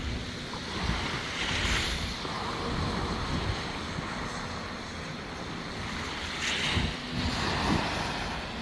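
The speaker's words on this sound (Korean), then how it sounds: "여기는 북동풍이 불어요" Northeast wind blowing beside a river in the early morning, a steady broadband rush with gusty swells and water noise beneath, buffeting the microphone, with no voices.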